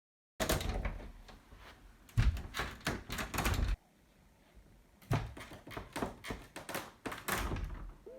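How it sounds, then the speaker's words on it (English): A door is worked back and forth in two bursts of clattering thumps and rattles, loud and close, with a quiet pause between them. "Listen into how noisy this door is."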